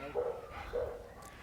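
A dog gives two short, close barks about half a second apart, moderately loud, with quiet background sound between them.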